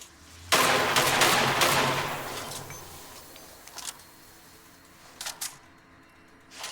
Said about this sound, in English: As long as you got a charge, you can fire it full, so you can fire all 4 shots at once